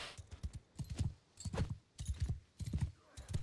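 Horse hooves in Mount and Blade II: Bannerlord during a riding test with jumps, soft rhythmic thudding clusters of hoofbeats repeating in regular galloping bursts, fairly quiet with no talk.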